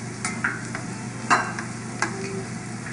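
Bacon sizzling in a pan while being stirred, a constant close frying hiss broken by a few clicks and scrapes of the utensil against the pan, with no voices.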